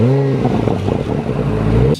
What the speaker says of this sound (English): I'm honestly happy this has an aftermarket exhaust on it